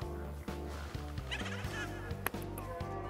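Repeated clucking chicken calls in a quick stuttering pattern, fairly close and alone over a constant background hum, a chicken sound effect from the video game Shin Megami Tensei V: Vengeance.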